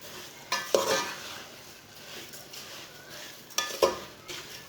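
A spoon stirs sugar through semolina halwa in a hot pan with soft scraping strokes and a light sizzle, punctuated by a few sharper clinks of utensil against metal.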